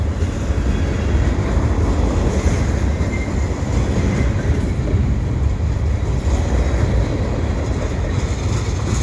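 Freight trains rumble steadily past Lachine EXO station in winter, a loud, continuous low roar of rolling wagons with faint rhythmic wheel clatter and no voices.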